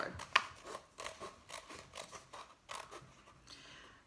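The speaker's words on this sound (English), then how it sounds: "we're going to cut off the rim of our cup" Scissors snipping around the rim of a paper cup for a children's spring flower craft, a series of close, crisp cuts coming in short uneven bursts with no one speaking.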